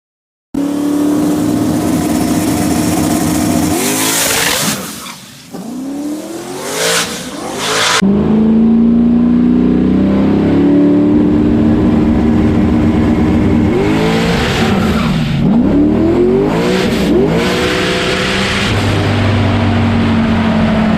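A drag race car with a stock LS engine launches hard, its revs climbing loud and close. After the first surge the engine dips briefly, then roars again through repeated rising passes without any voices.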